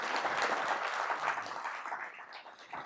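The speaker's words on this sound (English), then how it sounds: "you can clap" Audience members at a regional state-of-the-region address clap together in a dense, steady burst that lasts about three seconds before thinning slightly at the end, heard fairly close with no talking.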